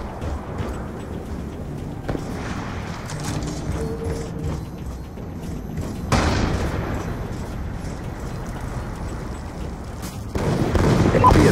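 Sniper rifle shots ring out in a Black Ops 2 team deathmatch, a few sharp cracks with abrupt loud onsets spaced several seconds apart amid busy game noise and mechanical clatter.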